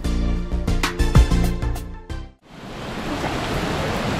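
Steady broadband rush of the Laitmawsiang waterfall in a Meghalaya cave setting, taking over after a few seconds of loud tonal noise that cuts out abruptly, then a constant close roar of falling water.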